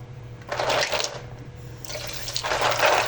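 Tap water runs over mussels being washed in a sink, two bursts of steady splashing flow separated by a quieter pause, close and fairly loud with a low background hum.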